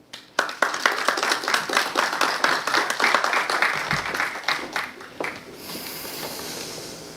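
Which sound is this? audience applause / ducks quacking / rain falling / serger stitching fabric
audience applause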